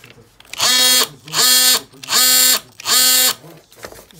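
A cordless oscillating multi-tool, a bare renovator with no battery kit included, buzzes loudly in four short, even bursts with brief pauses between them.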